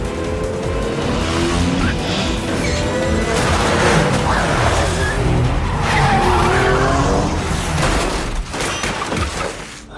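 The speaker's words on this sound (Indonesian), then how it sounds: "Katja pun datang dengan membawa mobilnya dan aksi kejar-kejaran pun dimulai" Loud car chase with roaring engines and repeated squealing, skidding tires, sweeping close by amid crashing and clattering noise.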